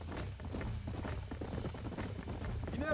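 Horses trotting in the Red Dead Redemption video game: a busy, rhythmic clatter of hooves, fairly near and steady, with some background noise throughout.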